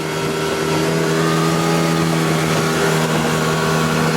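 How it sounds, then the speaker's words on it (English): Outboard boat engine held at full throttle around 5,000 RPM at roughly 40 miles an hour, a loud steady drone with strong tonal harmonics and rushing wind and water, continuous throughout with no talk. "we're going to go up to full speed like I did before, and we're going to put the trim up"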